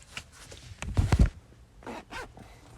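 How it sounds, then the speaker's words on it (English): A clothing zipper caught and tugged in short, rough pulls, a louder scraping burst in the middle followed by two weaker ones, close by in a quiet room. "this zipper got stuck"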